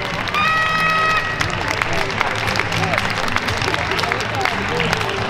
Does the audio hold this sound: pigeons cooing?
no